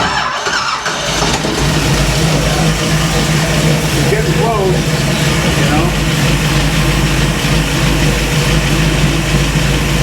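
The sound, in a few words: small block V8 drag engine starting and running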